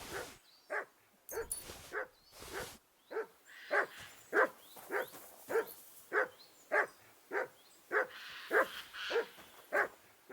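Dog barking in the video game Kingdom Come Deliverance 2, a steady run of about fifteen evenly spaced, fairly loud barks with no talk over them.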